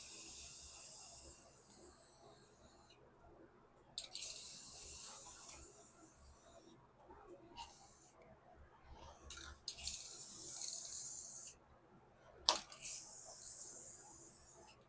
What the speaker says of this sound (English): we're going to use the Rust-Oleum's matte finish in the clear protection